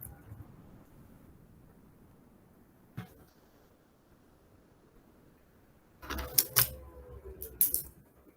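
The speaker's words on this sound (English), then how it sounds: "Just I'm typing here." Quiet room tone with a single tap, then a quick cluster of clicky keyboard keystrokes near the end while typing a Google Forms question, sharp and uneven in rhythm.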